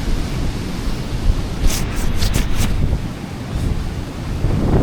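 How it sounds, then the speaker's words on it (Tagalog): Strong wind buffets the microphone at a beach in Bataan, a steady low roar with crashing surf underneath and a few brief higher gusts, no talking. "Sobrang hangin."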